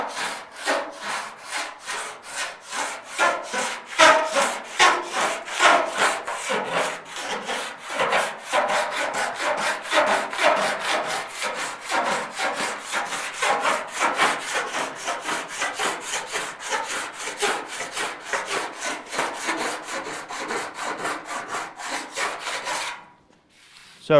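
A body file rasps across a welded steel fender on a 1956 Chevy in long, steady, rhythmic strokes. The strokes are loud and close, repeat continuously for about twenty seconds, then stop abruptly.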